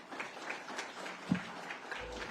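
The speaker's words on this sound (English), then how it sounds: "So a big applause to them," Faint, thin applause at a lawyers' conference, scattered claps ticking at a distance under a quiet room hum, with a single louder knock partway through.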